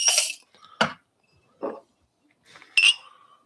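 Glass set down during coffee brewing, producing several separate sharp clinks and knocks spaced apart, close and clear against near silence.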